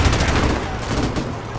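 Heavy gunfire in Call of Duty Modern Warfare Remastered campaign, a loud rapid burst of shots fired at a target on a building balcony, the rattle dense at first and easing off.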